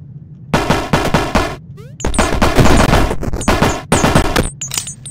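Gunfire in the 2D action game SuperFighters, loud and close, coming in several rapid bursts with short gaps between them and no talking over it.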